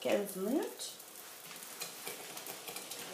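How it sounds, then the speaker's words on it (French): Chili pepper sauce simmering in a pan gives a soft, steady sizzle and faint bubbling, with a brief scrape of stirring at the start, quiet and close. "je laisse cuire mon piment au moins pendant 15 minutes"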